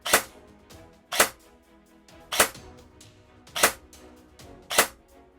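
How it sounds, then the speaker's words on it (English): Five sharp single shots from a Double Eagle M917G airsoft SMG replica set to semi-auto, evenly spaced about a second apart, each a crisp close snap with a short decay. "And now, instead of firing full auto, it will only fire one shot."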